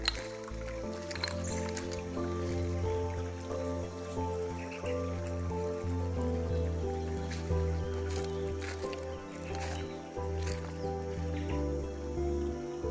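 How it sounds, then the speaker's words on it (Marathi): Water trickling steadily in small amounts through the fully closed gates of the Dhom-Balkavadi dam, a continuous wet flow over rock, fairly close and constant with no talk. "दारे पूर्ण बंद केल्यानंतर देखील असं अल्पशा प्रमाणात पाणी या ठिकाणावर वाहतच असतं"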